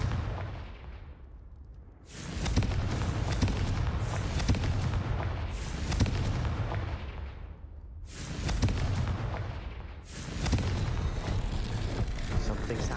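Booming blasts from the Confringo fire spell in the game Hogwarts Legacy, set against the Hungarian Horntail: three long, loud rumbling explosions, each bursting in suddenly and rolling on for seconds before dropping off.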